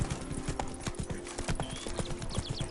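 Roach, Geralt's horse in The Witcher 3, gallops with rapid, rhythmic clip-clop hoofbeats, close and continuous, with a faint game ambience behind.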